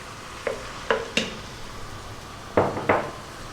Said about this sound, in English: Let's just get that a quick little mix in there.